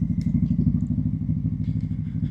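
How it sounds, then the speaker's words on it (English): Motorcycle fitted with a 3030 cam riding slowly at low RPM, a loud, close, lumpy engine putt with an uneven, slightly jerky pulse running steadily throughout, plus light mechanical clatter. "I'm trying to go as slow as I can, but this 3030 cam doesn't really let you in the lower RPMs as much without being kind of jerky, herky-jerky."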